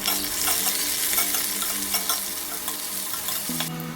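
Cumin, dried red chili, ginger, garlic and onion fry in hot oil in a home kitchen, a steady close sizzle with scattered crackles and stirring scrapes, running without talk until a brief shift near the end.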